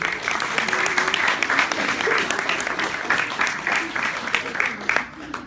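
A crowd at a senior class banquet with a hypnotist show applauds loudly and steadily throughout, a dense near wash of clapping with a few voices mixed in, thinning slightly at the very end.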